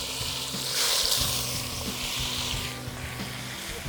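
Pork ribs frying in plenty of hot oil in a pot, a steady, close sizzle and crackle with a few small pops, heard alone.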